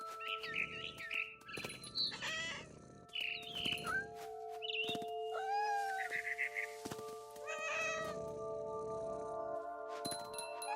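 A cat meows several times in short, high cries in the video game What Remains of Edith Finch, mixed with bird-like chirps over a steady tonal background hum.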